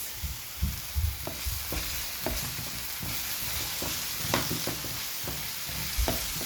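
Nigerian meat pie filling ingredients sautéing in a pan, a steady close sizzle broken by repeated scraping stirs and light knocks of a utensil, with no talking.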